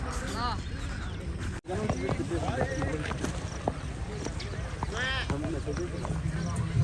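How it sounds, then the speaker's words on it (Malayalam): A racehorse walks toward the track, its hooves clip-clopping in a steady rhythm amid a busy outdoor crowd, with people talking throughout and an occasional whinny-like call. "ട്രാക്കിലേക്ക് ആ കുതിര പോയിക്കൊണ്ടിരിക്കുകയാണ്"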